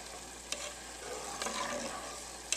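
Rice and broth are stirred in a pot, producing a faint, steady wet swishing with a few soft clicks of the spoon against the pot, quiet and close, with no talk.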